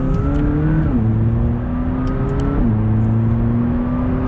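A McLaren 570GT engine revs under load with gear shifts, its steady droning pitch dropping sharply at each change, loud and close throughout with no speech.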